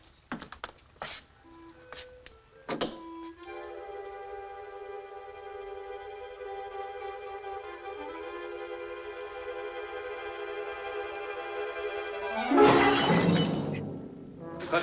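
In a 1949 film-noir crime drama, glass suddenly shatters near the end in a loud, brief crash over sustained orchestral score. A few sharp clatters and knocks come earlier, before the music swells.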